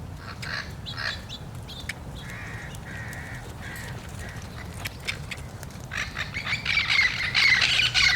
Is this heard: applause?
no